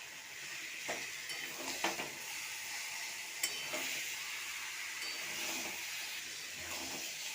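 Sliced green banana fries over low gas in a pan, a steady soft sizzle broken by the scrape and clink of stirring, quiet and close with no speech.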